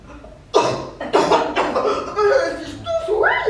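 A few sharp coughs in a row, close up, with breathy, throaty bursts and a brief laugh-like sound between them.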